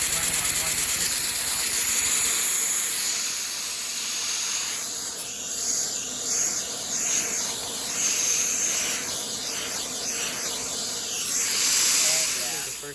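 A LEGO V-twin vacuum engine running with a failing valve gives off a steady airy hiss with a wavering, uneven pulse. It stays continuous and close for the whole stretch.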